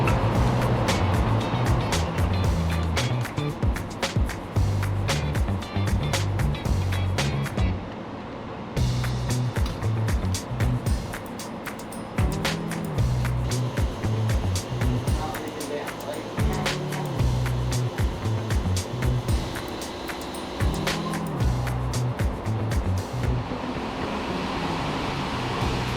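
LS1 engine on alcohol fuel making a dyno pull, a loud continuous roar with a brief cut partway through before it resumes, with people talking over it.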